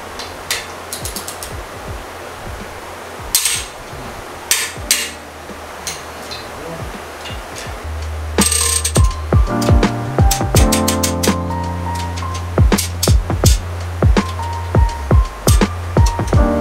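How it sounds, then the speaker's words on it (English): A wrench clicks and ratchets on a Ford 4.6L 4V cylinder head bolt during its final angle torquing, sharp mechanical ticks in bursts across the clip, with a low steady hum underneath from about eight seconds on. "Now we're gonna do the final torquing,"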